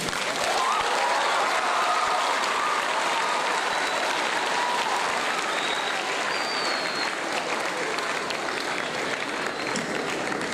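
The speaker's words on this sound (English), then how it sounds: "Let's give a round of applause again, please." Sustained, dense applause from a large audience fills the room evenly for the whole stretch, loud and close.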